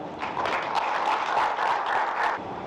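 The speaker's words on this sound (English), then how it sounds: "We applaud you, and I would like everybody please to clap for them." A seated audience at a health-sector event claps together in a steady, full round of applause, many hands blending into a continuous moderate roar that eases off near the end.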